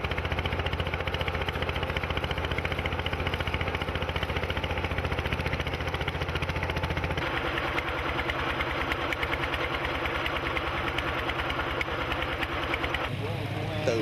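Motor-driven boats of a mussel-raking crew pull away from a dock on the canals of Đồng Tháp, Vietnam. Their engines idle and chug in a continuous, close, rumbling drone, and the pitch and load shift partway through.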